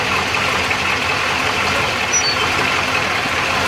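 Rebuilt 6.0 V8 in a Trailblazer SS running at a steady idle on its first start after the rebuild, a constant low rumble holding at an even level throughout.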